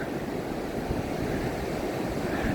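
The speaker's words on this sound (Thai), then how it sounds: "อันนี้เป็นหาดเจ้าหลาวครับใครที่ไม่เคยเห็นก็ดูครับ หาดเจ้าหลาวเป็นอย่างนี้" Waves wash steadily onto Chao Lao beach in Chanthaburi, a constant broad surf roar with some wind rush and no voices.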